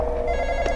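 A telephone rings in the Roblox horror game The Intruder, a steady electronic trill heard close and loud for a brief moment, with nobody speaking.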